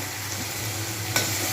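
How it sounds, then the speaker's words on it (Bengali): Onions frying in oil for a Bengali prawn malai curry give a steady, close broadband sizzle with a brief stirring scrape near the end, and no voices. "পেঁয়াজটা সুন্দরভাবে ভাজা হয়ে গেছে"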